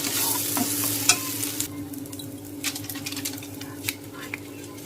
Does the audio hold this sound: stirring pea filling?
yes